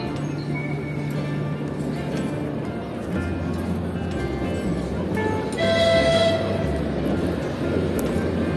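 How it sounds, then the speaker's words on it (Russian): A train passes through a park in early May as a steady, continuous rumble that swells slightly near the end, with faint voices in the background. "Еще один состав"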